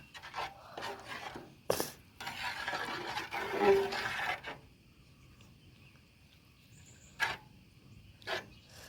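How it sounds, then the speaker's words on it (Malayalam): A spoon stirring chicken mandi in a pot, with soft rasping, scraping strokes that swell for a few seconds, then a few isolated knocks against the pot, fairly faint and close with no talking. "ഇത് നന്നായിട്ട് ഇളക്കി കൊടുക്കാം"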